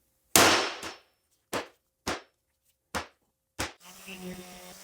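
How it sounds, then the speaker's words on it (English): Sharp impacts on wood while distressing it with dents and scratches: one loud strike followed by four evenly spaced knocks, close and alone, then a low rumbling hum. "this is where we'll add in the dents, scratches, and just character from everyday life"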